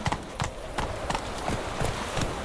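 Roach, a horse in The Witcher 3: Wild Hunt, clip-clops along at a steady gait, each hoof strike landing in an even rhythm over a constant outdoor ambience.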